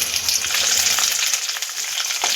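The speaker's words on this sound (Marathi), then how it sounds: "कांदा जरा परतून घ्यायचा आहे।" Onion pieces added to hot oil with browned garlic for Chinese-style chicken chilli, frying with a dense, loud, continuous sizzle close up, stirred throughout.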